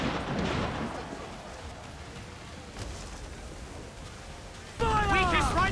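Ship cannons fire in Assassin's Creed IV Black Flag with booming, rumbling blasts and noisy wash, and a shouted voice cuts in near the end.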